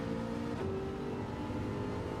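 A race car engine in the video game Gran Turismo 7 drones through a short shift during a Gr.4 league race, the pitch dropping briefly midway, heard faintly and steadily with no talk.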